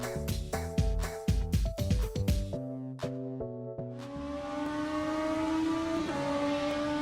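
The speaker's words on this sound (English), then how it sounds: "I for once say the engine sound is quite great" BMW M4 race car lapping Monza in rFactor 2, its engine revving hard in quick upshifting bursts, then settling into a sustained high-pitched wail at full throttle, loud and close.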